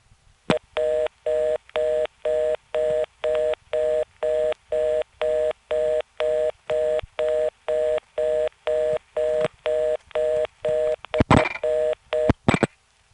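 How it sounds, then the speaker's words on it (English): Analog telephone reorder tone on a step-by-step exchange line in Florida, NY, in the 914 area, pulsing in a steady rapid on-off rhythm of about twenty beeps, then a short burst of dialing clicks and tones near the end, no voices. "It's going to be a very analog sounding reorder tone, albeit with modern frequencies."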